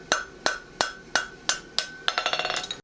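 A hammer strikes iron while a farrier shapes a plain stamp front horseshoe at the anvil, six evenly spaced ringing blows followed by a rapid run of lighter bouncing taps, close and loud.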